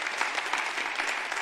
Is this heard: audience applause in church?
yes